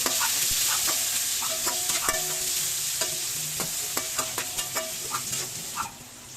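Onions sauté in a hot pan with a constant loud sizzle while a spatula scrapes and taps against the pan in an irregular rhythm, close up and with no voices.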